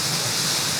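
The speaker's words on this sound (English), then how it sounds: "but this waterfall is quite loud." Loud waterfall filling the space with steady broadband roar, constant and unbroken, recorded up close on a tiny action camera's internal microphone with noise cancellation set to strong.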